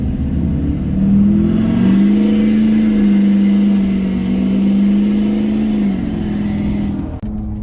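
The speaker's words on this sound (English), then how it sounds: "I want to get on it a little bit and just show you how much this truck rips." A stock diesel pickup with an aftermarket exhaust accelerates hard. The loud, deep exhaust note climbs in pitch and holds a sustained roar, then eases off before a brief clunk near the end.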